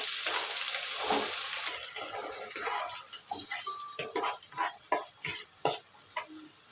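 Onions going into hot oil in a pan give a bright hiss that fades into softer crackling pops and stirring sounds, with no talking.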